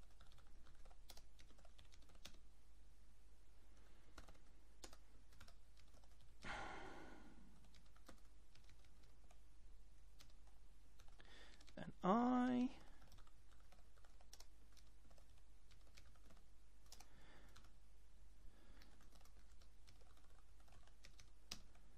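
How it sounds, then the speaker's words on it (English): Typing on a computer keyboard during a Haskell live-coding session, a steady stream of quiet, rapid key clicks running throughout with brief bursts of louder activity, heard alone without talk. "my fingers are getting tired of typing this"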